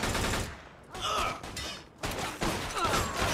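Repeated gunfire from a Mafia 2 shootout, loud bursts in quick succession with game ambience, while a voice speaks over parts of the exchange.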